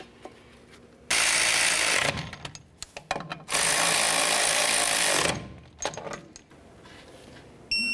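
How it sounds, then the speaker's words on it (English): A power tool runs in two loud bursts, about a second and nearly two seconds long, while tightening the brake caliper bracket bolts on a 1998-2011 Ford Ranger, with clanks and rattling between bursts and no talking. "Once we have them both started and snugged, we'll torque them to 85 foot-pounds."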